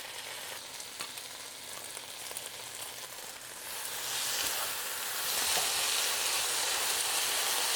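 Sauce hitting a hot pan while cooking fish for kimbap, the sizzle swelling loudly halfway through and holding as a steady hiss.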